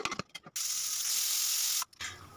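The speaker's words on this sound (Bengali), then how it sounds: "তড়কা ডালটাকে প্রেসার রান্নাতে সিটি দিয়ে নিচ্ছি।" Pressure cooker whistle on tadka dal with potatoes, a single loud sustained hiss of escaping steam lasting over a second, set between a few short clicks and knocks close by.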